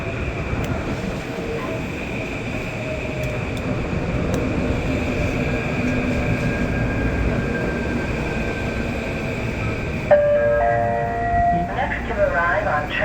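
A commuter train to Stamford arriving at a New York area station, a steady low rumble and rolling rail noise with squealing brakes near the end, and a voice heard over the train.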